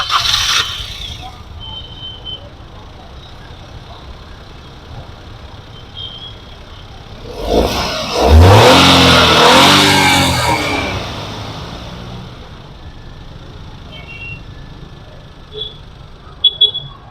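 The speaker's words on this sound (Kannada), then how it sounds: "ಸ್ಟಾರ್ಟ್ ಮಾಡಿನೂ ಕೂಡ ತೋರಿಸ್ತೀನಿ ಇಂಜಿನ್ ರೂಮ್ ಸೌಂಡ್ ಹೆಂಗಿದೆ ಅಂತ" A 2016 Maruti Celerio ZXi automatic petrol engine, heard from the open engine bay, cranks once and then settles into a smooth, low idle that continues steadily to the end.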